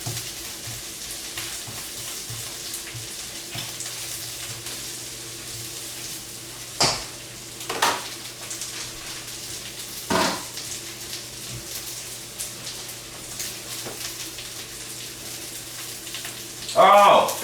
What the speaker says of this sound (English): it's sauteing in butter right now too